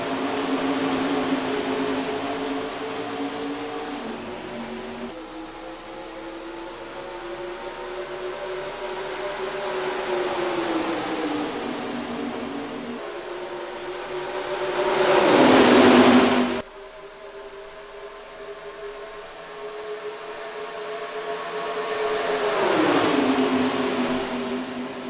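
Race cars roar around Homestead in the NASCAR Racing 2003 video game during a Gatorade Cup Series All-Star Open, with loud sustained engine drones rising and falling in pitch as cars sweep past, one surging louder mid-way.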